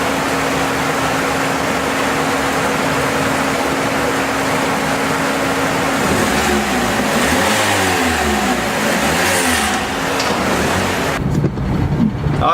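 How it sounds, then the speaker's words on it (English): A car with a slipping transmission on a test drive, heard from inside as a steady engine and road drone, with a rising, revving pitch in the middle and a rattling clatter at the end. "let's go on the test drive anyway, see if we at least made any improvements"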